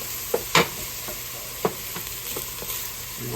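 Food fries in extra virgin olive oil and gets stirred around the pan, a constant gentle sizzle marked by a few sharp utensil scrapes and taps, close up with no talking.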